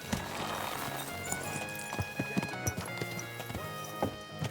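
Horse hooves clip-clop in a quick, uneven rhythm over a musical backdrop in the video game Kingdom Come: Deliverance 2, close and clear.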